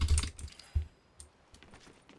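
Keyboard key presses while playing Fortnite, a few sharp clicks spaced apart, moderately close and fairly quiet, with no talk.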